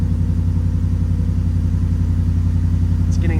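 A Ford F150 engine idles roughly after a throttle body cleaning, a loud, steady low rumble with a faint uneven pulse, heard close up and continuous, with a short high squeak near the end.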